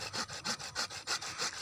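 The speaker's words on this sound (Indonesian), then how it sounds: "Sebelahnya kita gergaji juga" A handsaw cuts through the wood of a bonsai tree in steady back-and-forth strokes, about eight rasping passes close to the microphone with brief pauses between them and no talking.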